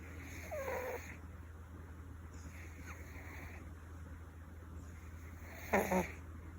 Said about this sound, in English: some people don't know what a cat snores